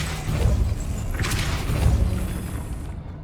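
A Depulso force spell cast in the video game Hogwarts Legacy: a whooshing blast with dull booming thumps, a single surge that swells and then fades out.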